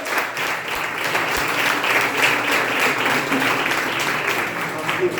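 A church congregation at a worship service applauds steadily for several seconds, a dense, even wash of clapping that neither builds nor fades.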